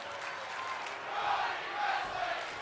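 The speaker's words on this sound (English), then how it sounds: "With a crowd chanting Johnny Wrestling." Wrestling arena crowd in WWE 2K25 chants in unison, a broad steady roar of many voices with rhythmic swells, continuous and fairly loud throughout.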